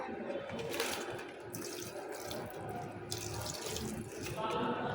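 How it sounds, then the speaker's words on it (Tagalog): Water runs steadily from a hose or tap while plants are watered outdoors, a continuous close splashing hiss with small surges and no clear talk. "Ito na yung last na halaman na dinidiligan ko."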